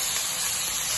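Ginger garlic paste sizzles in onions frying in a pan, a steady, even hiss of hot oil that stays close and unbroken throughout, with no voices.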